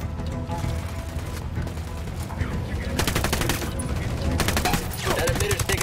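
Gunfire in the video game Ghost Recon Wildlands, a dense stretch of rapid automatic shots with heavier bursts in the second half, loud and continuous with some talk beneath.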